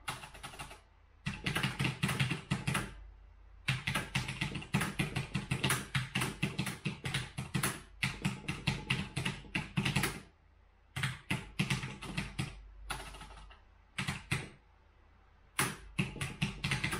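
Fast clattering keystrokes on a computer keyboard, typed in bursts with short pauses between them, close and crisp with no voices.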